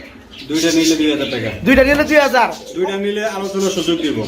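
Pigeons coo at a pigeon farm, soft throaty calls rising and falling close by while someone talks steadily over them.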